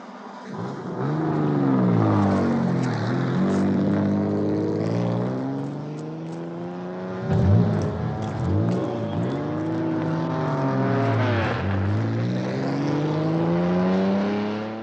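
Ferrari Formula One racing car engines at a street circuit, a steady loud harmonic roar with rising and falling revs as cars pass close by, swelling around the middle, with no talk.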